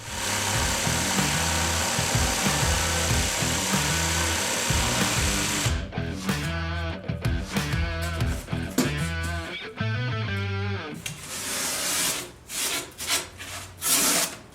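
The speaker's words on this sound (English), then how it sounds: "now I'm going to come through with my jigsaw and I'm going to cut out the pieces" Jigsaw cutting foam tombstone pieces, a loud rattling saw buzz running steadily at first, then breaking into choppy bursts and short stops as the cut continues.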